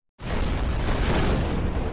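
Loud, continuous roar of surf breaking against rocks, a dense rushing wash that starts abruptly and holds steady throughout.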